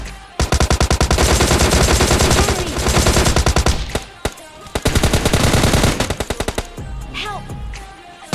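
Rapid automatic gunfire from the PUBG Lite battle-royale game, loud and close, in two long sustained bursts followed by a string of shorter shots, then a brief quieter tail.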